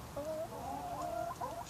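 Backyard chickens cluck in a quiet desert garden, a soft, wavering run of low murmuring clucks from one or two birds nearby, faint overall.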